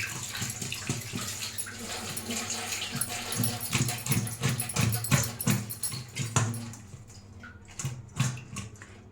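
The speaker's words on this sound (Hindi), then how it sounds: "एबे आम कोबी को गोटे बाउल ले नहीं कि भल भाव में टिके धोई नबा" Cauliflower pieces are washed by hand in a bowl of water in a home kitchen, giving repeated splashing and sloshing bursts at a close, moderate level.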